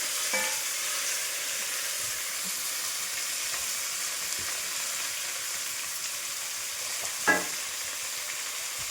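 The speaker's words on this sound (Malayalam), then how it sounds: "തേങ്ങ നല്ലതായിട്ട് മൂത്തതിന് ശേഷം സവോള, തക്കാളി, പച്ചമുളക് എന്നിട്ട് നന്നായിട്ട് ഇച്ചിരി ഉപ്പും കൂടി ഇട്ട് നന്നായിട്ട് വഴറ്റുക." Coconut, onion, tomato and green chili sautéing with salt in a pan: a low, even sizzle and hiss runs throughout, broken by a couple of sharp utensil clinks near the start and close to the end.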